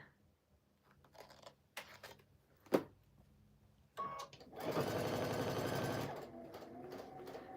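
A quilting sewing machine stitches in a steady, fast whirring run of about a second and a half, preceded by scattered clicks and handling knocks, close and clear.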